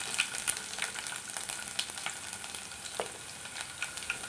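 Curry leaves and crushed garlic frying in oil for a spicy fish curry, a steady soft sizzle with scattered crackles and pops, close up and without talk.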